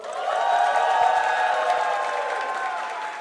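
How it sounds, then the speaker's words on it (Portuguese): A live studio audience applauding and cheering, loud and close, with dense clapping and bright whoops swelling within the first half-second, then holding steady and easing slightly. "Barulho da plateia, por favor."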